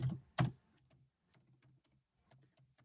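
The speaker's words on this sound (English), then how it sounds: "How's my typing? Is it fast?" Quiet keyboard typing with a couple of louder key strikes near the start, then sparse soft taps and brief pauses.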